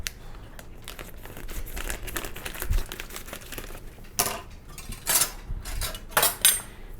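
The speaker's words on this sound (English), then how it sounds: "In goes our dry malt extract." Dry malt extract going into a homebrew pot for a Kolsch kit, a run of light crinkling, rustling and metallic clinks with a few sharper knocks, close and fairly quiet, no talking.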